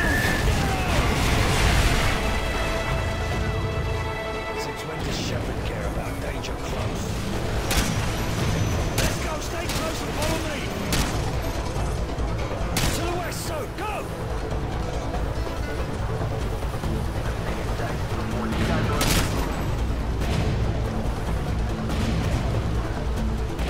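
Artillery barrage explosions in the Call of Duty Modern Warfare 2 video game, a dense, continuous rumble of booms and bursts mixed with game music, radio chatter and other effects, loud throughout.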